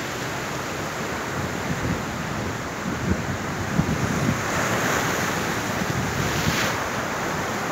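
Sea waves surge and break steadily on the shore at Mar del Plata during fishing, a dense continuous wash with heavy wind buffeting the microphone and no voices.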